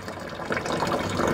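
Water gushes and splashes steadily as it fills the drum of a Panda XPB36 washing machine, a loud, close, continuous churning flow.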